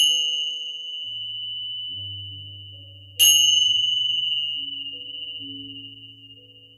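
Bells ring during a yoga relaxation session: a clear, sustained metallic tone is struck twice, each strike decaying slowly while softer low resonant hums and overtones drift beneath in a quiet room.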